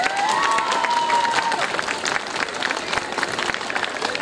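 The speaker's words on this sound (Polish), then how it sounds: "Wielkie brawa dla nich." Crowd applause at an outdoor summer community festival, steady dense clapping with some cheering that carries on throughout, fairly loud and close.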